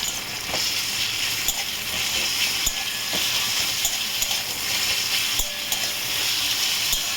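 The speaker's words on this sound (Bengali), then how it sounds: "তো ফ্লেমটা হাই করলাম, এটা একটু ভাজবো ভালো করে" Onion, tomato and cashews frying over a high flame make a dense continuous sizzle, with intermittent metallic clicks of a spatula stirring the pan, close and without talk.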